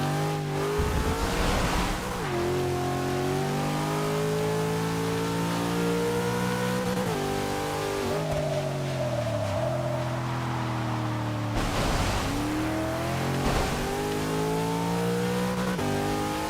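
A 2002 Nissan GTR in Forza 6 racing in the rain, its engine revving loud and continuous, pitch climbing through the gears with sharp drops at each shift, no talk over it.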